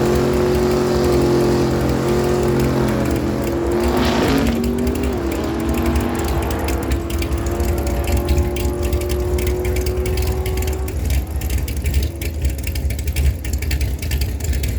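A drag racing car makes its run down the Miramichi Dragway, a loud sustained engine roar with shifting pitch that builds, peaks and fades as it pulls away down the strip.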